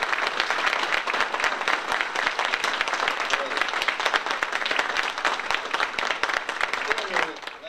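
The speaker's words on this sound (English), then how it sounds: "we owe him a big round of applause" Sustained applause from a large crowd at a ceremony, dense steady clapping that carries on throughout, fairly even in loudness.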